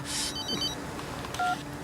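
A few quick electronic keypad tones from a mobile phone being dialed, close and clear, with no voices.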